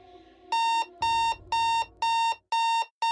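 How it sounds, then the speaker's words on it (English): Electronic alarm clock ringing in a loud, repeating pattern of sharp beeping bursts, about two per second, six pulses in all with short gaps between them, close and alone without any voices. "My alarm clock blared"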